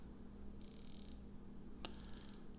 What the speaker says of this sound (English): Beautiful smooth action on the bezel.